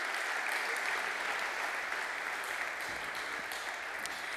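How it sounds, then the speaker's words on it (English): Audience applause at a startup demo day event, a steady wash of clapping from a crowd heard at a distance, moderately faint and continuous throughout without talking. "so one applause for yourselves."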